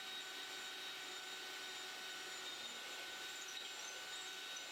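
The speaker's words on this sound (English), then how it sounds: "drilling some holes" A steady high-pitched whine of a power drill boring holes in wood runs continuously and evenly throughout, fairly faint, with no voices.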